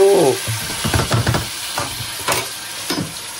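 Kimchi being stirred and fried in a pan, a close sizzle with irregular scraping and clattering strokes of a utensil, a short bit of voice at the start.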